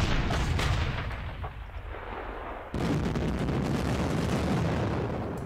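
Heavy artillery guns firing in the wargame Panzer Campaigns Stalingrad '42, heard as a dense, continuous rumbling barrage with a sudden louder burst midway, loud and alone with no voices.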